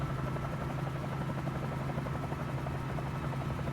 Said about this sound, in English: definitely consider taking a helicopter into some of the bigger cities